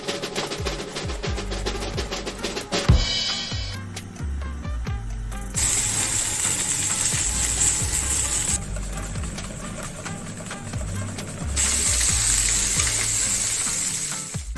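A thick tomahawk steak sizzles and crackles continuously in a hot frying pan, loud and close, with surges of intense spitting as the fat renders.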